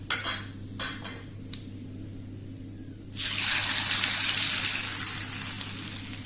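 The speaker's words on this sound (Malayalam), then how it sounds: "ഉള്ളിയും കടുകും എല്ലാം ഒക്കെ നല്ലോണം മൂത്തിട്ടുണ്ട്. നമുക്ക് ഈ ചിക്കൻ കറിയിലോട്ട് ഒഴിച്ചു കൊടുക്കാം." Fried onion and mustard seed tempering is poured from a pan into chicken curry, a few clinks of metal utensils followed by a sudden loud, steady sizzling hiss that continues to the end, close by and without speech.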